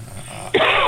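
A single short, sharp sneeze bursts out abruptly after a moment of quiet room tone.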